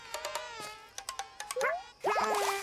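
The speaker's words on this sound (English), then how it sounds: "There's still bees." Bees in the video game Yoshi and the Mysterious Book make synthetic buzzing tones, with a run of short repeated pulses giving way to a longer, louder, wavering buzz near the end, heard alone.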